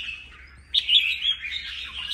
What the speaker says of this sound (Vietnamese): Đây là chim đầu đàn ngoài rừng anh em nhé.